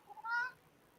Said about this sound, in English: The cat's yelling.